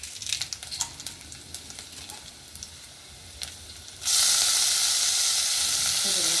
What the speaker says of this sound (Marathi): त्यात आपण लसूण आणि मिरच्या टाकून लसूणचे तुकडे करून घ्यायचे आणि मिरच्या टाकून थोडी मेथी शिजून घेणार आहोत अर्धी